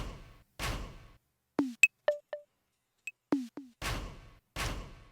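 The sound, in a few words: percussion layer with claps in a beat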